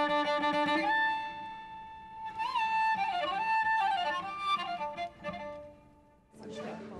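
A cello imitating the wata, the Eritrean and Ethiopian violin, plays a sustained whistle-like, flute-like melody with sliding, bending notes, fairly close and clear, ending in a brief bright flourish.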